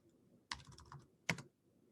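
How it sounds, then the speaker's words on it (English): Two sharp clicks on a computer keyboard stand out above a faint room background, like separate presses of a single key spaced just under a second apart, with no voice heard. "And once I hit enter on my keyboard"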